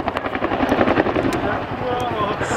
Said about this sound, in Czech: solové vystoupení vrtulníku TAH-1P Jiřího Podolského